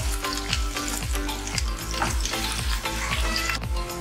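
Onion, garlic and green chili fry in a pan with a close, steady sizzle, broken by rhythmic stirring scrapes about twice a second.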